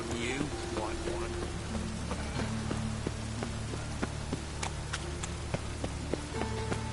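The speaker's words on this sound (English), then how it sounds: "Rain, I like rain." Steady rain falls across an outdoor scene in the video game Witcher 3, a continuous broadband hiss with scattered drop ticks over a low hum, no one speaking.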